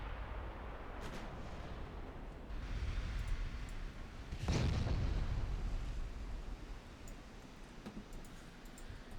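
A battleship fires a broadside in the naval combat game Ultimate Admiral Dreadnoughts, one heavy booming blast rising out of a low rumbling battle din, then rolling away and fading.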